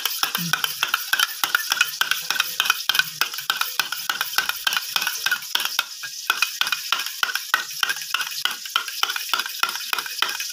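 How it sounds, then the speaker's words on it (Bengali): Salted egg is beaten with a spoon in a bowl, giving a steady run of quick, close clicking taps against the bowl that continues without pause, with no voices. "লবণটা দিয়ে চামচের সাহায্যে ভালো করে আমি ডিমটাকে ফেটিয়ে নেব চামচ দিয়ে।"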